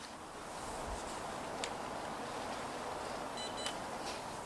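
Seestar S30 smart telescope powering on, giving a couple of faint short electronic beeps over a quiet room hiss, with no talking.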